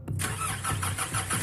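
A car engine cranks and starts inside a zombie-themed video game, the old, often-broken car turning over with a rough mechanical churn that settles into a steady running rumble, loud and close, with no talking.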